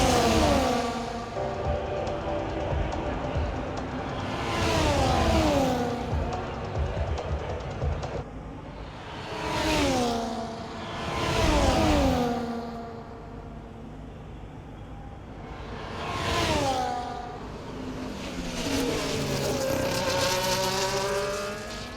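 F1 race car engine in the EA Sports F1 video game at the Baku street circuit in Azerbaijan, loud and continuous with repeated sharp rises and falls in pitch as the car accelerates and shifts gears, with no talk.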